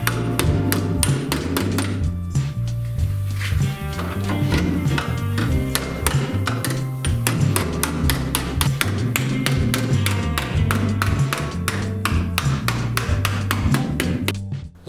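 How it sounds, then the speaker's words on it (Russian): Rapid, steady hammer blows ring out as inner body panels of a BMW 3 Series G20 are straightened after the wing is removed. The metallic strikes come close and loud in a dense, continuous rhythm throughout. "Крыло удалено, равняю внутренние элементы."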